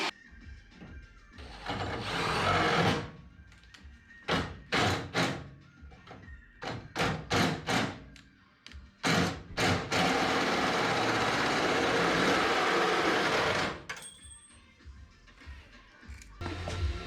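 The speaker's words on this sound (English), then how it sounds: "just run the hole saw down through here, and that'll keep it in a nice uniform shape" A 1.5 inch hole saw cuts through metal on a K24-swapped Honda CRX, a loud grinding drill whine in several bursts with pauses between them and one long continuous stretch.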